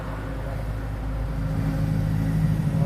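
A vehicle cruises along a road at about 55 in heavy holiday traffic leaving Chennai, producing a steady low engine and road rumble that builds gradually in loudness, heard from inside without talk.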